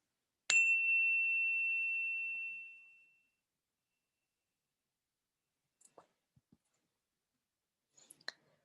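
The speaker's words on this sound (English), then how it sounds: "allowing yourself initially to hear the sound of the bell" A handmade bell from Tennessee struck once to open a meditation workshop, a clear ring that sustains and fades slowly over about three seconds, followed by quiet with a few faint clicks.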